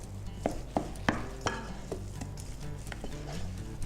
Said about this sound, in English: So giving it a stir like this helps activate the gluten, but it also helps aerate it and cool it down a bit as well.